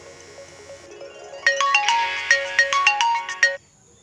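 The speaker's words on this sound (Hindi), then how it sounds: "रुके फोन आ रहा है।" A mobile phone ringtone for an incoming call plays a bright, looping electronic melody of rising beeping notes, fairly close and clear, starting softly and then growing louder before it cuts off.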